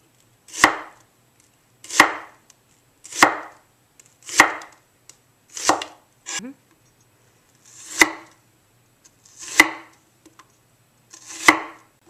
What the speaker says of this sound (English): now we're going to make thin slices right along the side.